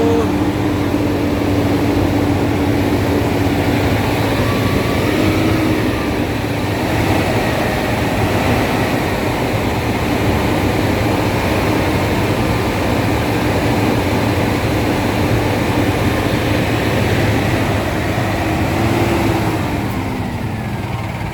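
A long, steady rumble of a passing train, loud and continuous with a faint whistle-like tone riding over it.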